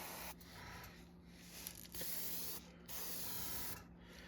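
An airbrush with a 0.2 mm nozzle sprays thin fluorescent green paint onto fishing lures, a soft steady hiss that cuts off and restarts in several bursts against a quiet background.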